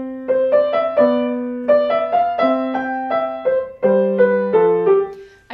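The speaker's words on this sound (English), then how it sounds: "The one that I like to teach first and really ingrain this in my students is the Duncombe Sonatina" A piano plays the Duncombe Sonatina, a bright, steady phrase of clear detached notes over a lower accompaniment, moderately loud and close with no talking.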